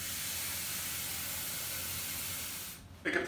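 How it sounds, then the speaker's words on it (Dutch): Tap water rushes steadily into a cooking pot as a broad, even hiss for nearly three seconds, then cuts off, followed by a brief clatter. "Vul de pan voor de helft met water."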